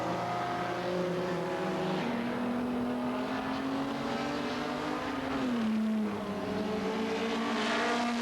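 Historic race cars, a Ginetta, a Cobra and a big Chevrolet among them, run on the Zolder circuit, one engine droning loudly close by and shifting pitch, with others roaring beneath it.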